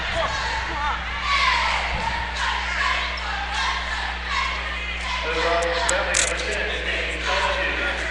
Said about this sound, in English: And the crowd's into it early on.